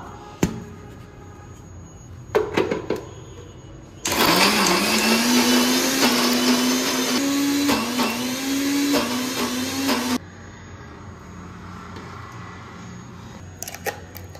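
A mixer grinder whirs loudly for about six seconds while grinding pirandai (adamant creeper) chutney, with clicks and handling knocks before and after the run.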